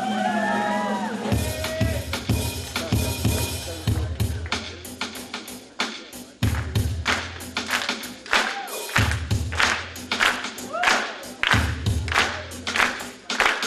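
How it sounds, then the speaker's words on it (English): An audience at a hip hop performance claps along in sharp, regular bursts over a thumping beat, the claps loud and rhythmic with occasional cheers rising from the crowd. "I'm gonna need you guys to play along in this and just clap."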